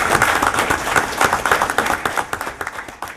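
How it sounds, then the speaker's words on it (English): A council chamber crowd gives a round of applause for state wrestling champions, a dense and steady clapping that stays loud throughout, then thins slightly near the end. "We wanted to recognize and give you a round of applause."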